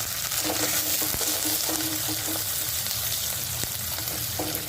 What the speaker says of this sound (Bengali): এগুলো খুব ভালো মতো ভেজে নিচ্ছি লাল লাল করে